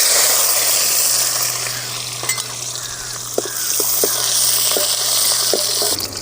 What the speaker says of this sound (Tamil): கடுகு நல்லா பொரியிட்டு பொரிஞ்சிக்கிடுச்சு